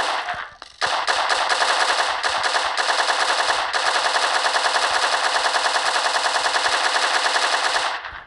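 Mini Uzi submachine gun from a Minecraft gun mod firing one long, loud, continuous automatic burst of about seven seconds after a few short opening shots, close and dense with no talking.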